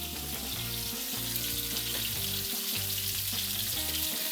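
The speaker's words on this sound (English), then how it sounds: "The sizzle of that salmon." Salmon fillet sizzles in a hot pan alongside a sauce, a loud, continuous frying hiss with faint crackles and soft clinks, close up and without speech.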